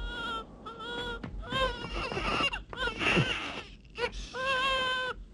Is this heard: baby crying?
yes